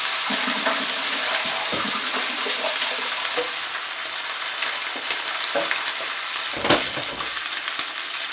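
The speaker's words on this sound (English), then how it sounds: "now I'm going to add into that the tin of tomatoes" A whole tin of canned tomatoes hits a hot frying pan, bubbling and sizzling steadily with intermittent scrapes and stirs of a utensil, loud and close, with no talking.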